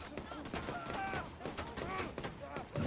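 Rapid gunfire in the shooter video game The Division 2 crackles steadily throughout, with overlapping shots and metallic game effects at a moderate level and no talking.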